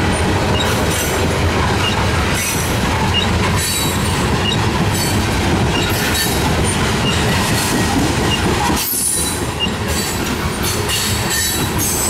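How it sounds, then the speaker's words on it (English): Norfolk Southern freight train rolling past at Marietta, PA, loud and close throughout, with steady rumbling wheels, rhythmic clickety-clack of railcars and brief high wheel squeals, no talking. "Full train."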